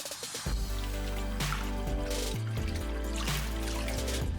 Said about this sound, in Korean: 물에 3번 헹궈서 모래가 나오지 않을 때까지 깨끗이 씻어줬다.